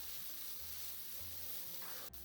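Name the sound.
cauliflower (gobi) and masala frying in a pan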